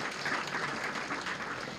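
Audience at a business talk applauding, a brief, fairly faint wash of clapping from a crowd lasting under two seconds.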